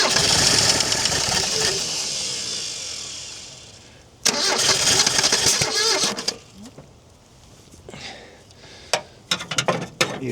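An old Chrysler engine that has sat abandoned in the bush for 30 years, showing blow-by, runs with a loud, rough mechanical clatter up close, fading out, then bursting back with irregular revving and sharp clanks.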